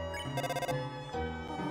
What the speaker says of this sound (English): The phone kept ringing infinitely.